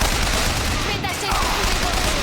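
Dense gunfire in the video game BioShock Infinite, a loud continuous volley of shots and rattling bursts with no pause, as a voice speaks over it briefly.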